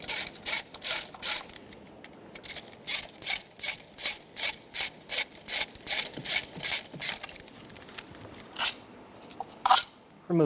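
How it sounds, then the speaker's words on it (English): Ratchet driving a T40 bit to remove ignition coil bolts on a Chevrolet Sonic engine, a steady series of close, crisp clicking strokes in regular bursts, with brief pauses between them. "Using a T40 Bit, we're going to remove the 2 bolts out of the top of the ignition coils."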